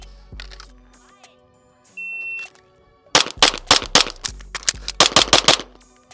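Rapid pistol shots are fired as fast as possible during a 4 by 22 shooting drill run. One early shot and a brief electronic beep are followed by two tight bursts of sharp, loud, closely spaced cracks.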